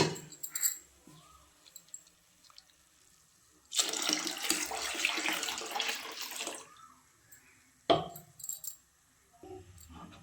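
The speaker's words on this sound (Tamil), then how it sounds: "மூணாவதாக எடுத்த பாலையும் ஊற்றி அலசி ஊற்றிக்கலாம்." A third extraction of cottonseed milk being poured into a pot for a sweet foxtail millet and cottonseed milk dish: a steady splashing pour of about three seconds, followed by a few clinks and quiet handling sounds.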